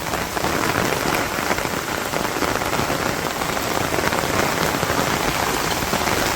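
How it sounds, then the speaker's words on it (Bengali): Heavy rain falls continuously over a Bangladeshi village, a thick, unbroken patter of raindrops on surfaces, near and steady, with nobody speaking. "সেই বৃষ্টি নামছে।"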